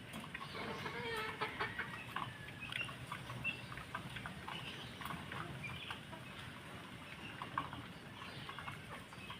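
Backyard cockerels around six months old clucking and calling at moderate distance over a steady outdoor background, with scattered short bird sounds throughout.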